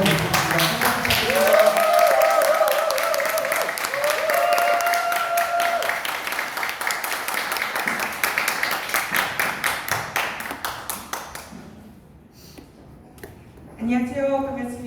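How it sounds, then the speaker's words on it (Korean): Warm applause from a lecture audience welcoming a speaker to the podium at a party chapter talk in Gyeongnam, dense clapping for about ten seconds that thins out, followed by the speaker beginning to talk. "가슴에서 우러나는 뜨거운 박수로"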